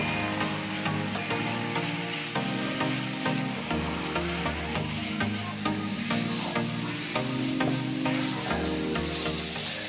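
Masala is stirred and mixed in a hot pan, giving a steady close sizzle with constant frying crackle and scraping under it, without pause and with no talk.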